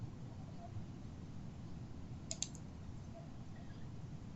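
A computer mouse clicks two or three times in quick succession, faint and close, against a quiet hum with no talk.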